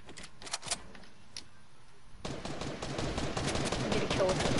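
Gunfire from a favorite gun in Fortnite, Chapter 2 Season 1: a few sharp shots at first, then a dense, continuous rattle of rapid fire that grows louder toward the end.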